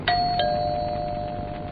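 A house doorbell rings, two clear chimes in quick succession near the start that leave a sustained, fading tone in a quiet room.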